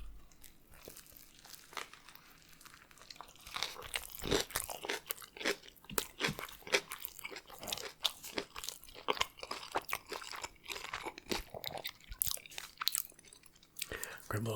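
Someone bites into and chews a Subway footlong turkey sub, with repeated loud, close crunches and soft crinkling of the wrapper across the whole stretch, and a few quiet words spoken between bites.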